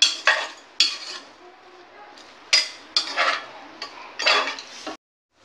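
Minced mutton with turmeric powder being sautéd in a pan, heard as a handful of sharp scraping and clattering bursts from a spoon or spatula stirring against the metal, with quieter stretches in between and no talk.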